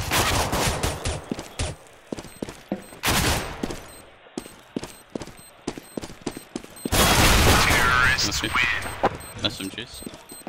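Submachine gun fire in a team-based video game match comes as rapid, loud bursts of sharp shots in quick clusters, with longer sustained volleys near the end, and players talking underneath.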